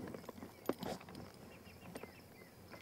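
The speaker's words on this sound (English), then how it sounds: "Why are you riding a sheriff's horse?" Horse hooves clip-clop in a sparse, uneven rhythm of a few knocks, moderately close, over a quiet outdoor background with faint insect chirps.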